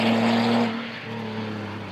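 A race car accelerates hard out of the pit lane at the Nürburgring 24 Hours, its engine a loud, close, steady roar that eases slightly and then holds.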